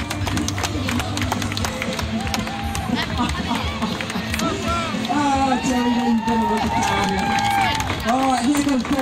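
A crowd at a skateboarding event cheers and shouts steadily at a loud level, with a skateboard rolling and a ramp in use, and an announcer talks throughout.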